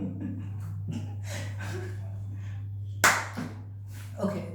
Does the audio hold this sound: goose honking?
no